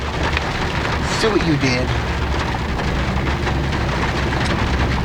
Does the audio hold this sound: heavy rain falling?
yes